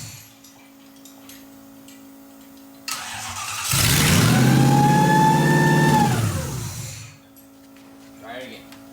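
A Toyota 1UZ V8 fitted in a Ford Falcon cranks, catches and runs loudly up close for about three seconds, then shuts off abruptly. A faint voice follows after it goes quiet.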